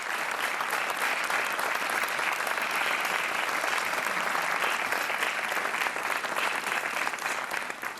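Loud, sustained applause from a large TV game show studio audience, steady dense clapping throughout with no talking over it.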